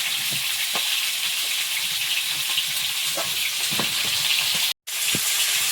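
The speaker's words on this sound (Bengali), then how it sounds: "মাছগুলো ভাজা নিয়ে যাচ্ছে বেশ লাল লাল করে" Bele river fish fry in hot oil in a pan, giving a constant dense sizzle with occasional soft pops and a brief cut-out near the end, no voices present.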